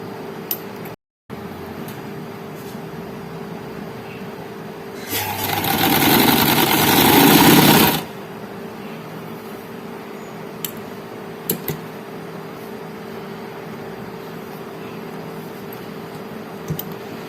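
A sewing machine runs a side seam down a frock at half-centimetre allowance, one loud continuous burst of stitching lasting about three seconds amid quiet room noise, with a few faint clicks before and after.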